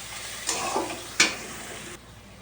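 Onions fry in a pan with a soft, steady sizzle, broken by two sharper stirring scrapes, the second louder, before the sizzle drops back and fades near the end; no one speaks.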